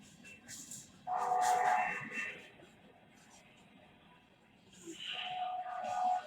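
A BNSF freight train led by engine 9129 rolls northbound past an active crossing at night, faint and distant, with its horn sounding two tonal blasts over the low rumble of the cars.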